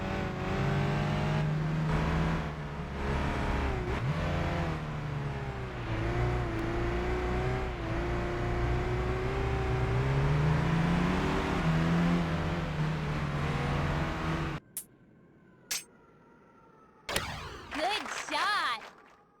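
Car engines in Gran Turismo on a PSP-emulating handheld, a sustained droning engine tone that rises and falls with revs for about fifteen seconds, then cuts out to near silence with a few short bursts.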